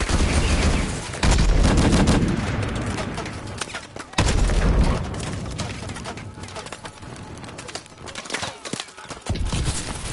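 Gunfire in the Call of Duty Advanced Warfare campaign: dense, continuous bursts of rapid automatic fire with booming impacts, loud and nearly unbroken throughout.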